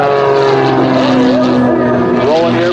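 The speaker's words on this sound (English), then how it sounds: "Rolling the airplane to the left." A propeller aerobatic airplane flies airshow maneuvers, its engine droning loud and close with a strong buzzing tone that rises and falls in pitch as it rolls and turns.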